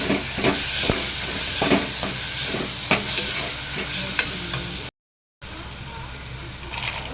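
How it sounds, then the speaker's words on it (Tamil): Tomatoes with turmeric powder sautéing in a hot pan, a loud continuous sizzle broken by frequent stirring scrapes, then a brief dropout before the frying resumes more quietly. "கொஞ்சமாக மஞ்சள் தூள் போட்டு நல்லா வதக்கிக்கலாம்."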